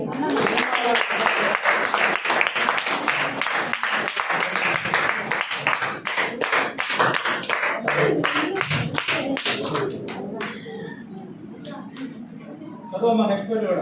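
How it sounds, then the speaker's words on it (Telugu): A crowd at a Sunday church rally prize-giving claps and applauds loudly for several seconds, then the clapping thins out and fades as a voice speaks. "క్లాప్స్ కొట్టండి."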